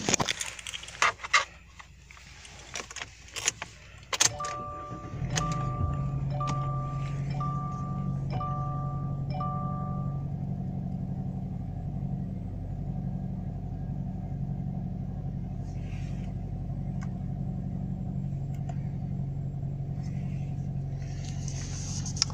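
A 2018 Subaru Crosstrek 2.0 Premium cranks and starts its engine, then settles into a steady low idle hum, heard from inside the car after some clicks and handling noises, with a chime sounding during startup.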